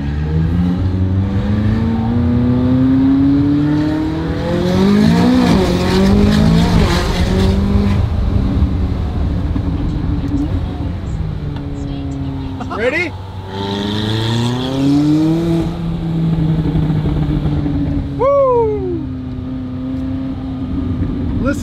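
A McLaren sports car in track mode drives along Newport Coast roads, its engine loud and close. It rises in pitch through repeated accelerations, with sharp gear shifts and crackling revs, and a person speaks briefly over the engine.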